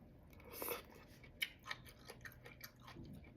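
Crunchy Thai spring rolls being chewed: a few quiet, sharp crunches come in an uneven run, faint and close, with no talk.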